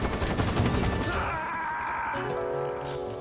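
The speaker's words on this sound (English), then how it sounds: "it seems the snipe or the gunshots are masked by the sound of the helicopter to some extent" A loud, dense burst of gunfire crackles for about a second in Metal Gear Solid 3, then fades into a lingering low mechanical hum of a helicopter.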